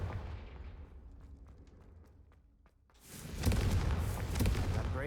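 A Confringo fire spell in Hogwarts Legacy erupts as a loud, booming, roaring blast after a quiet lull with faint clicks, then the rumble swells and lingers.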